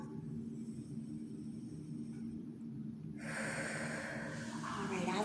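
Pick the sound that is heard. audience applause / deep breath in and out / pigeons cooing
deep breath in and out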